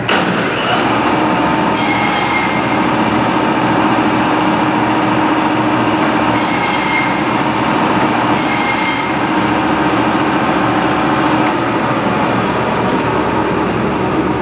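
A band saw cutting thin Korean-style beef short ribs gives off a loud continuous mechanical whine and hum, with several brief high screeches as the blade bites through bone.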